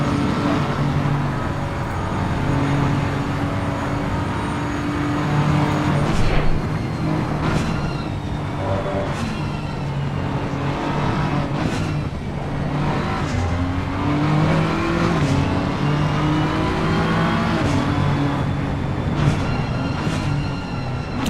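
Race car in a video game lapping the Bathurst circuit, engine droning and revving steadily through gear changes, with repeated pitch rises and falls as it accelerates and brakes through the esses, with occasional tire noise.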